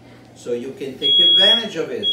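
A kitchen alarm system gives out sustained high-pitched electronic beeps, one long tone and then another starting, sounding over a man's nearby speech.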